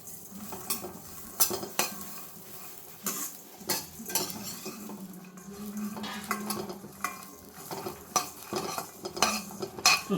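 Peanuts and fenugreek seeds roasting in a pan while making a dosa seed powder, a soft steady sizzle with repeated scraping and clinking of a spoon stirring against the metal pan, close and fairly quiet.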